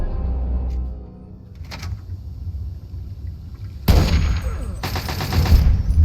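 Bursts of gunfire in Fallout 3, two sharp volleys of shots ringing out over a constant low ambient rumble, loud and close.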